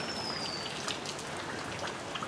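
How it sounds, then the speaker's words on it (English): Steady rain pattering into puddles outdoors, a dense, even hiss of drops close by with no voices. "This is the first rain"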